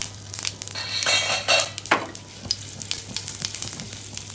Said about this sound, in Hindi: तिल को डालने के बाद आप तुरंत ढक लीजिए क्योंकि उसके छींटे उड़ते हैं और वो आपको हार्म कर सकते हैं।